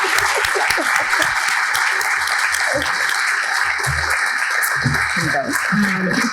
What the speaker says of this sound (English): If you could join me in giving a round of applause to our speakers, Khalilah and Stacy tonight.